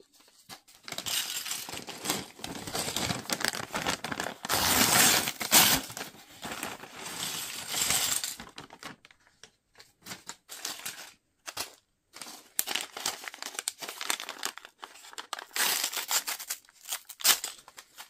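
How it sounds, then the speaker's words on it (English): Paper bags of LEGO pieces are torn open and handled close up, giving crisp crinkling and ripping bursts mixed with small plastic parts clinking and rattling, separated by brief quiet pauses. "I do like opening these paper bags"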